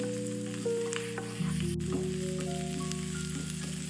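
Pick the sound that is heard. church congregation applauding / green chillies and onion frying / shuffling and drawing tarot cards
green chillies and onion frying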